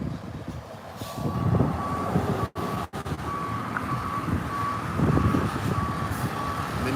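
A garbage truck backs up on a residential street, its reversing alarm beeping in a steady, regular rhythm over the diesel rumble of the truck nearby, with no speech.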